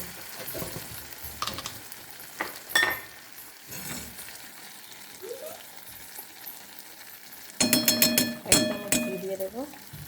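Hot oil with a little ghee sizzles in a pan for a fish curry, a low steady crackle broken by a few sharp clinks and a short harmonic tone near the end.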